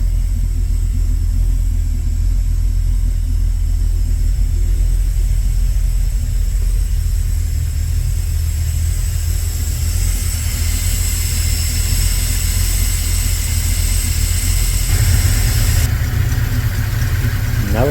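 A 1971 Dodge Dart GT Swinger idles steadily on old, bad fuel, a continuous low engine rumble held close and even, with a slight rise in intensity near the end and no voices.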